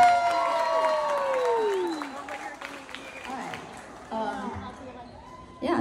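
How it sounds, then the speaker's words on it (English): A student showcase crowd claps and cheers at moderate volume, fading after a couple of seconds, with a whooping voice and talk layered over and after it. "can we just get a huge round of applause for Pop Rocks?"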